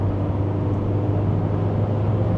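Mazda 3 2.0 SP Fastback accelerating on the road, a steady low engine drone with broad road and tyre rumble, constant and close with no talking.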